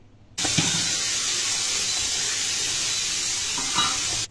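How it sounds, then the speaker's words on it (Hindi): Chili flakes fry in oil for a salad of bell peppers, giving a steady, loud, close hiss that starts abruptly and holds evenly, with a faint scrape of stirring near the end. "थोड़ी देर चिली फ्लेक्स को फ्राई कर लेंगे ऑयल में"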